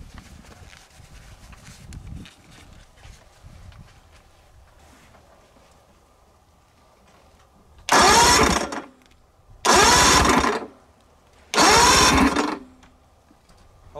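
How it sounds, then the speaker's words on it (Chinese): An outboard boat engine, spark plugs removed during winterizing maintenance, cranks dry without starting: three loud, close bursts of starter whirring, each about a second long, separated by short pauses after a quiet stretch of low background noise. "然后再去干打几次火，这时候打火不会再着了，因为我们把火花塞都给它拔下来了"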